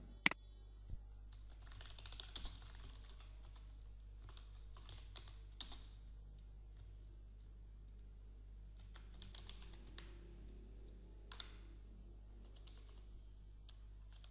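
Typing on a computer keyboard while entering names into an Excel sales and purchase sheet, quiet scattered key clicks in short clusters and pauses over a low steady hum, no voice.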